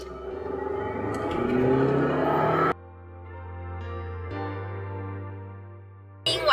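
A 2012 Audi A6 2.0 TSI accelerates from a standstill toward 100 km/h, its engine rising in pitch through a gear change before the sound drops to a quieter cabin hum, then a sudden burst returns at the end.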